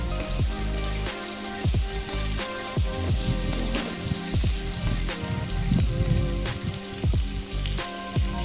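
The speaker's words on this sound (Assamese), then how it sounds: "এতিয়া মাংসখিনি অলপ ভাজি ল'ব লাগিব।" Pork pieces frying with dried chilli, onion, garlic, ginger and a little oil in a pan, giving a steady close crackling sizzle with scattered pops and occasional stirring scrapes throughout.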